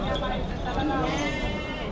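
Goats bleat continuously at a large goat and sheep market in Chakan, Maharashtra, a loud, dense, wavering chorus from a crowded pen mixed with people talking nearby.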